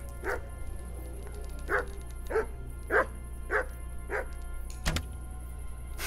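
Dog in the medieval video game Kingdom Come: Deliverance barking in a steady series of about six clear barks, fairly evenly spaced, over a low constant hum, followed by a sharp thump.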